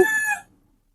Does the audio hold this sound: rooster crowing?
yes